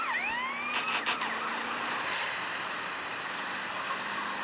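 A police car siren from the GTA video game wails steadily and loudly through the whole stretch, with sweeping pitch glides at the start and a continuous rumble of traffic and engine underneath.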